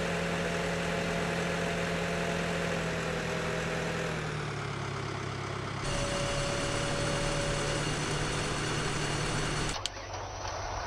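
A front-end loader tractor idles in Farming Simulator 18 with a steady, continuous low engine hum. The tone shifts slightly partway through, then cuts off abruptly near the end.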